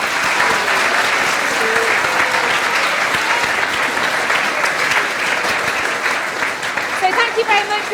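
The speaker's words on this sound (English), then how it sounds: "Give them a round of applause today." Sustained round of applause from an audience for a school assembly's panellists, dense and loud throughout, with voices talking over the clapping.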